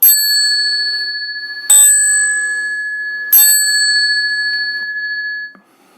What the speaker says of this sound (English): we strike 3 times the small bell